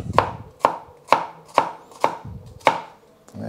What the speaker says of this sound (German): wo die Zwiebeln geschnitten werden